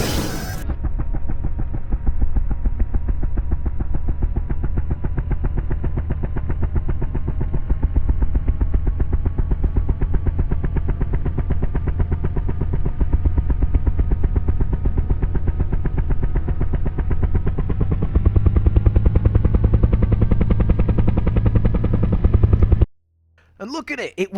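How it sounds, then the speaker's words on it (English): Helicopter in Kerbal Space Program lifting off and flying toward an island airfield, a steady loud rotor-and-engine drone with a rhythmic chop that swells slightly near the end before cutting out abruptly. "we do in fact make this helicopter work, and we take ourselves on a nice little flight over to the island airfield"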